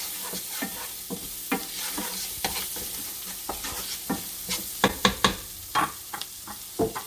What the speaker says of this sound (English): Let the spices cook through for about a minute